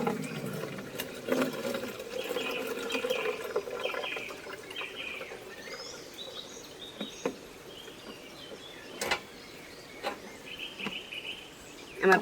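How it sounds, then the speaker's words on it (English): Pineapple juice pours into a jug in a kitchen, a steady, fairly quiet liquid rush with a few soft knocks and clicks near the end. "Okay, I'm going to pour the juice in the jug."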